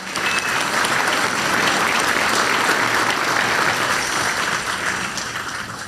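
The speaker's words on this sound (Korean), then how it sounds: "다시 한번 박수 부탁드립니다." Applause at a Korean government and business event after the president's remarks, a large audience clapping in a dense, even roar that holds steady from start to finish.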